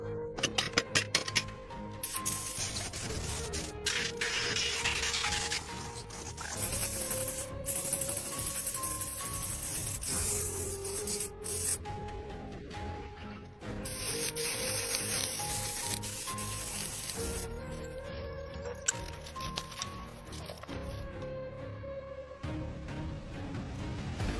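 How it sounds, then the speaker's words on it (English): Sanding BMW X5 brackets to improve paint adhesion gives repeated rubbing and scraping strokes with short pauses, moderately loud and close, running steadily without talk. "Sand it down a bit to improve paint adhesion."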